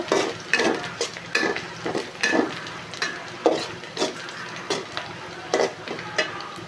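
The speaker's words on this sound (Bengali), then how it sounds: "একটু গরম মশলা, এলাচ, দারচিনি, তেজপাতা দিয়ে এটা সুন্দর করে একটু ভেজে নেব।" Onion frying in a pan with garam masala, cardamom, cinnamon and bay leaf gives a low sizzle under repeated scraping stirs and light clinks of a utensil against the pan, close and rhythmic.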